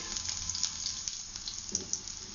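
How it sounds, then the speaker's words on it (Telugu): Chopped garlic pieces fry in hot oil with a steady, crackling sizzle, close and continuous, with small pops scattered through. "ఆయిల్ వేడెక్కింది ఇప్పుడు మనము కట్ చేసి పెట్టుకున్న వెల్లుల్లి ముక్కలు వేసుకోవాలి"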